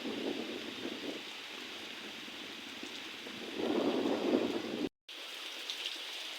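Heavy monsoon rain pours steadily outside a house's back door, a dense continuous hiss that swells louder partway through before a brief break.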